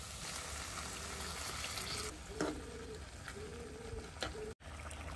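Broth is poured into a pan of frying shrimp, and a close, steady sizzle mixes with watery splashing and a few stirring knocks, quiet overall and without talk.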